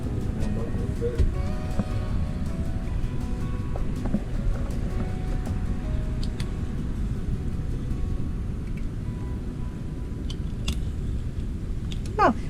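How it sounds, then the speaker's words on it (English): Boat engines on a sailing cruiser at anchor off Hog Island, Grenada, rumble steadily and close with a dense low drone throughout, with water and faint clatter around the hull. "You want me to turn on engines?"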